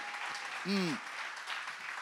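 A church congregation acclaiming and applauding, a dense, continuous roar of clapping and cheering voices with a brief rising shout in the middle.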